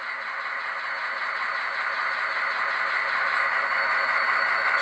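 A ScaleTrains EMD SD45 model diesel locomotive with an ESU LokSound decoder creeps along at very slow speed, giving off a steady, moderately loud synthesized diesel engine rumble that swells slightly toward the end.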